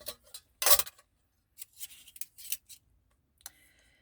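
Scissors cut through pattern paper for a craft project, a few crisp separate snips with short pauses between them, close and fairly quiet in an otherwise still room.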